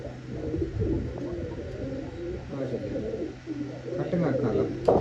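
Pigeons released from a rooftop, soft cooing and fluttering bird sounds running throughout against steady background noise, with people talking over it.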